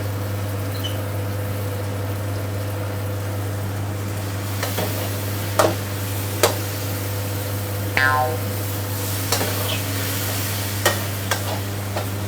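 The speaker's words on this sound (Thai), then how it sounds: "ปูเราลงไปทอดก่อนนะคะ" Fresh crab fries in hot oil in a pan for chili-paste stir-fried crab. A steady, close sizzle runs underneath a constant low hum, punctuated by several sharp clinks and scrapes of a utensil.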